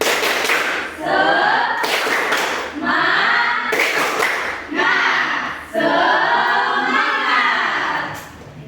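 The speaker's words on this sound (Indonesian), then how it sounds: "Tepuk semangat." A classroom of students claps a rhythmic spirit clap, loud near bursts of hand claps in repeated patterned groups with brief pauses between, mixed with cheering voices.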